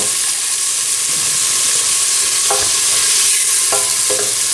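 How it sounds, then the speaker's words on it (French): Onions sautéing in oil in a pan for a veal and prune tagine, a steady loud sizzle with a few utensil clinks as they are stirred, and no voices. "Alors je fais revenir les oignons dans ce mélange."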